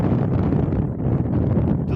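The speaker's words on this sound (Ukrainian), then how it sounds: "дуже вітряні місця" Strong wind blows across an open roadside in Spain, a dense low rumbling buffet against the microphone that holds steady and close for the whole two seconds.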